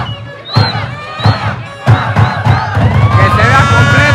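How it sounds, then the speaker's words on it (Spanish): Crowd in the stands at a neighborhood soccer semifinal in Tijuana cheering and shouting for a youth team, loud whoops and cries rising in waves with thumps and overlapping voices close by. "Un aplauso para estos chicos"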